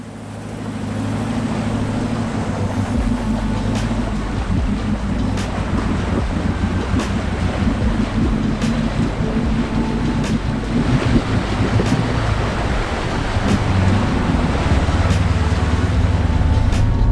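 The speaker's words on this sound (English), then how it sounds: "we pushed on through the remainder of the crossings" A vehicle ploughs through a deep water crossing at Weeli Wolli Springs near Nullagine, with a steady low engine drone under loud, continuous rushing and churning water that holds close and strong for the whole stretch.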